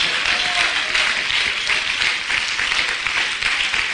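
A church congregation applauds loudly during a sermon, a steady, dense roar of clapping filling the whole moment without pause.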